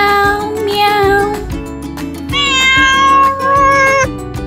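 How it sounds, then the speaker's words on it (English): Two drawn-out cat meows, close and clear, over a steady rhythmic music backing. "the cat says meow, meow"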